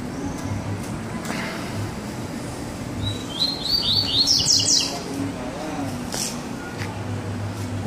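A double-collared seedeater sings a quick series of high, bright chirps for about two seconds against a rumbling background.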